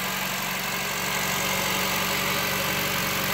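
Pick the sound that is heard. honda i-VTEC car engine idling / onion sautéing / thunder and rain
honda i-VTEC car engine idling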